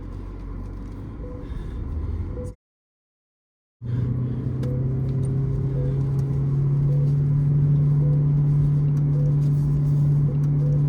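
A BYD Shark 6 off-road vehicle's engine gives a steady, loud rumbling drone in the bush. The sound cuts out for about a second, then returns as a constant low hum, with no talking.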